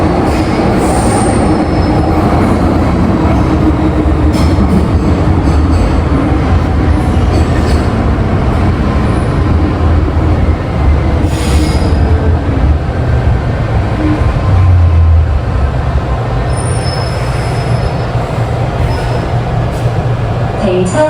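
A metro train at Kennedy Town terminus rolling onto the turnaround track, a loud continuous rumble of wheels on rail with thin high squeals rising over it throughout.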